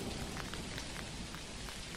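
Steady rain falls in the video game Dinkum, a dense, even patter of drops that is soft and continuous throughout, with no voices.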